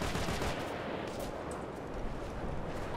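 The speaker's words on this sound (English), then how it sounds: "We're taking heavy fire here!" Sustained, dense gunfire crackles through a combat mission in the video game Operation Flashpoint: Red River, a continuous wash of rattling shots that stays at a fairly even, moderate level.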